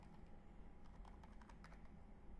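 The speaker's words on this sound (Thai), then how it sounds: "ครูก็พิมพ์คำว่าการ์ตูนเข้าไป" A computer keyboard typing a short word during a Photoshop tutorial, heard as a brief run of soft, quiet keystrokes over faint background noise.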